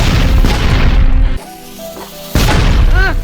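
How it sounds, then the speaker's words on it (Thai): Loud booming blasts from an exploding zombie blowing itself up in a Roblox game, a heavy explosion followed by a quieter gap, then another burst of crashing noise with a rising synthetic tone at the end. "ระเบิดซอมบี้กำลังระเบิดตัวเองเน่ะ"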